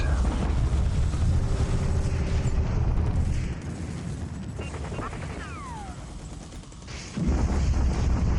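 Naval bombardment gunfire rumbles through a World War II Pacific war game, a dense continuous roar of booming shots and blasts that eases briefly before swelling loud again.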